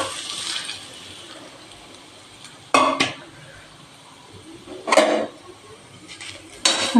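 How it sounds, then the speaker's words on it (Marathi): Grated coconut stirred into a spoonful of ghee in a pan, giving soft scraping and clinking bursts of a spoon against metal at intervals over a quiet background. "आता आपण हे खोबऱ्याचा खिस ह्याच्यात टाकून घ्यायचा आहे."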